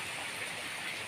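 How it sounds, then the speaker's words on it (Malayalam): Light drizzling rain makes a steady, even hiss of fine patter at moderate loudness, with no voices. "മഴ അതങ്ങനെ നല്ല ചാറ്റൽ മഴ"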